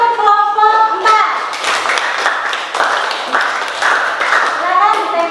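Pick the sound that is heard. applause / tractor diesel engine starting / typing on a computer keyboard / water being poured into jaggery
applause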